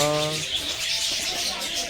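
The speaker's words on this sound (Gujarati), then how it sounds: "આ પક્ષીઓ" Birds in a park at a Swaminarayan temple in Navsari chirp and call in a lively chorus, fairly loud, with a voice briefly heard at the start.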